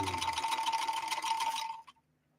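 A 1970s Kenmore 158.13520 sewing machine stitches a 3-point zigzag, its motor whirring in a steady, busy run close by for about a second and a half before stopping abruptly into quiet.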